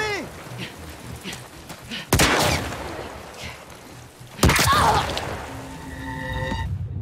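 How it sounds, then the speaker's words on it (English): Two sharp, loud gunshots crack out a couple of seconds apart during a tense scene in The Last of Us Part II, each followed by a short ringing tail, with quieter ambient noise between them. "Jesse gets shot in the fucking head."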